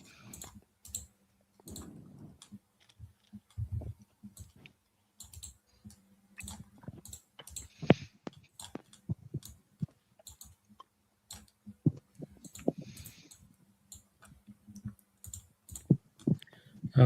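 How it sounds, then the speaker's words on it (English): Rapid clicking comes in close, irregular bursts of sharp little clicks with brief pauses between clusters, carrying on for the whole stretch. "you're clicking like faster than ever"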